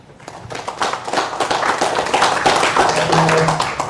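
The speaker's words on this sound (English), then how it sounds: "can everyone give a round of applause to both of our speakers?" An audience at a technical conference talk on building Debian images claps for two speakers. The applause starts sparse and quickly swells into steady, dense clapping across the room, with no speech.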